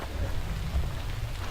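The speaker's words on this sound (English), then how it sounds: "It's not a particularly hard rain right now, but it's been off and on." Light rain falls at a lakeside campsite in Algonquin Park, a soft continuous hiss with a low rumbling undertone, steady and without voices.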